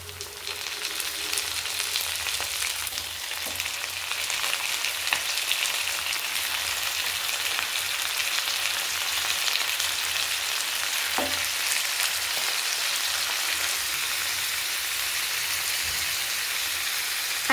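Chicken and onions fry in a pan with a steady, close, bright sizzle that holds constant throughout, broken by an occasional faint clink.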